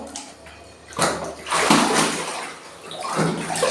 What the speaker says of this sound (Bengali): এখন তোমাকে শাওয়ার করাবো